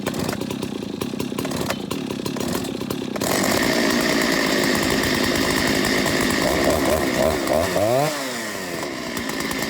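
An old Stihl 084 chainsaw running while it warms up, held at high idle with a loud, steady buzzing engine drone close by, rising in pitch partway through.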